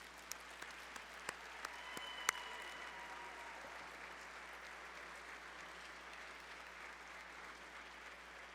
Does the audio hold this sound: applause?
yes